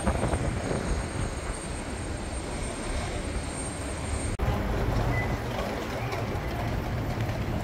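Airplanes at the Kagoshima Airport observation deck produce a loud, continuous jet engine roar that holds steady throughout with a brief break midway, and no speech is heard.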